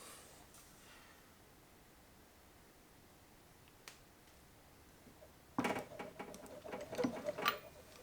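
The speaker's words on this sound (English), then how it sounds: "Now it's just a matter of tightening this up. Who doesn't love a nice snap-on 3/8 ratchet?" A Snap-on 3/8 ratchet tightens a bolt, starting after a long quiet stretch with a quick run of close, crisp clicks followed by a few scattered taps.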